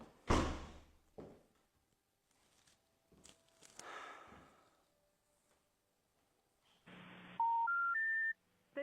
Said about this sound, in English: Let me try Michael on the phone.